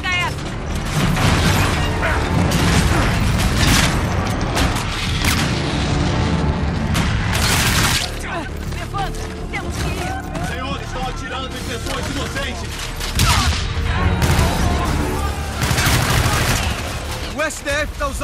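Gunfire and explosions in the video game Call of Duty: Infinite Warfare, continuous loud volleys, booms and weapon mechanisms with voices talking over the battle.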